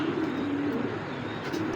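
A silver giribaz pigeon coos in soft, low, rolling calls at close range, with quiet ambient background.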